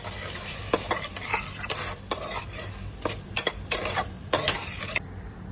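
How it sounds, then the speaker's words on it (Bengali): Spices stirred and fried in a pan produce a close, crackling sizzle cut by sharp scraping strokes of a spatula in an uneven rhythm, which stops abruptly near the end. "আবারও আমি ভালো করে মশলাগুলোকে নাড়াচাড়া করে করছি"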